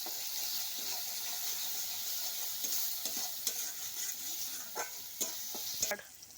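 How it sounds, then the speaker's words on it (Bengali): A spice paste of ginger and green chili is stirred and sautéed in a pan with salt and turmeric. A steady sizzle runs throughout, broken by scraping spoon strokes and a few sharper knocks near the end. "হলুদটাও পরিমাণ মতোই দিয়ে দেবো দিয়ে আমি আরও কিছুক্ষণ কষিয়ে নেব"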